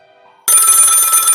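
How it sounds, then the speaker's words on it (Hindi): A loud electronic telephone bell kicks in abruptly after a near-silent moment, a rapid trilling ring that continues without a break. "एक बार फिर फ़ोन की घंटी बजने लगी।"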